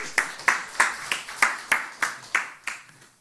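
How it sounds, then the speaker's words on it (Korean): At a Sunday church service, a congregation claps in slow, even unison, about ten sharp rhythmic claps, close and clear, with no talking. "박수로."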